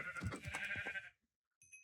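A Minecraft sheep bleats in a quick wavering run of several stuttering pulses, then falls quiet before a faint high chime-like game sound follows, with no talking over it.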